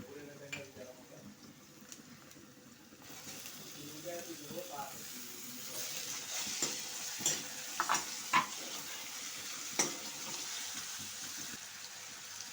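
Ginger, garlic and tomato frying in a pan for misal rassa give a soft, steady sizzle that thickens partway through, with a few sharp clinks and scrapes of stirring near the end.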